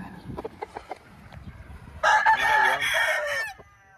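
A fighting rooster crows once near and loud, a long wavering call rising over faint clucks and scattered background noise at a gamecock match in Tijuana.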